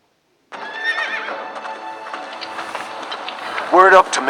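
A horse neighs loudly and close in a Game of Thrones video game, with clip-clop hoofbeats and movement around it, ending in a sharp whinny near the end.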